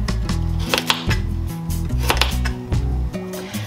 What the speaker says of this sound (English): And then I just rough chop